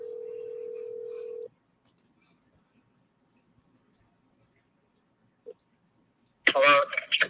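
A telephone on speakerphone gives a steady dial tone that cuts off, followed by faint clicks, a short tone, and then a distant voice answering over the speaker.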